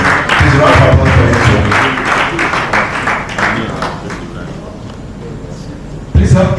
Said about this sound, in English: Please round of applause for